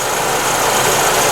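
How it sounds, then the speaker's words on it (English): A car engine idles smoothly and steadily after a vacuum leak repair, giving a continuous, even hum with broadband rumble and hiss and no talking over it. "The engine is purring like it should be"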